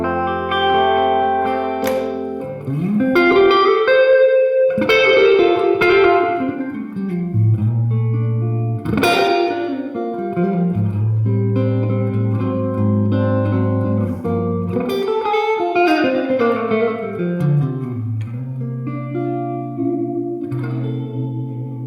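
Guitar through a Universal Audio Golden Reverberator pedal's plate reverb with the mix raised, giving sustained chords, slides and bends a fuller, lingering shimmer; close, steady and without speech.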